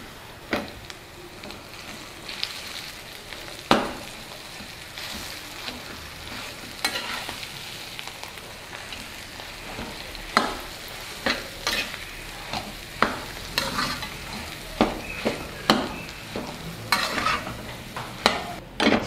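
Mashed boiled potato worked into a pan of samosa filling, a continuous sizzle with repeated scraping and spoon knocks against the pan in an irregular rhythm, close and moderate, no talking.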